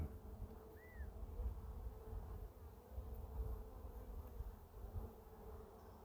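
Honeybees drone steadily around an opened hive during an inspection, a low continuous buzz close by with gentle rises and falls and one brief higher whine as a bee passes.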